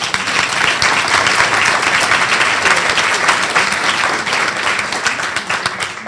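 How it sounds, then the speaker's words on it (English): An audience at a club's leadership awards gives a loud, dense round of applause for the club president, an even wash of many hands clapping that carries on throughout. "Let's give her a round of applause"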